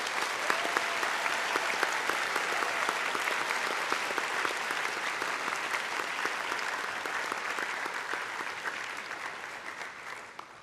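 Sustained audience applause for high school competitors at the National Science Bowl championship, a dense, steady roar of many clapping hands filling the room, easing off slightly toward the end.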